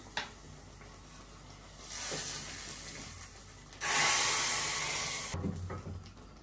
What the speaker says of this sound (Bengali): এই যে পেঁয়াজ দিয়ে দিচ্ছি, পাঁচফোড়ন, শুকনো মরিচ, তেজপাতা। এই যে এখন সম্বারটা দিয়ে দিলাম।